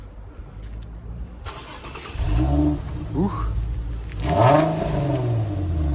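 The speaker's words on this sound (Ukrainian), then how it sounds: "Двигун працює рівно." A 2008 Infiniti FX35 3.5 engine running on gas and petrol cranks and catches, then revs twice in quick bursts before settling evenly; a man makes a brief exclamation.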